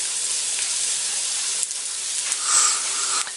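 Steady, bright sizzling and hissing of onion and nuts frying in a hot pan, continuous and close, with a few faint clatters partway through.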